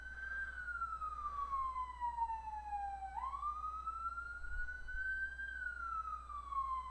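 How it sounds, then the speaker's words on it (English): A siren wails steadily in a slow rising and falling tone, fairly close and clear, sustained throughout with a low hum beneath. "Sirens, man."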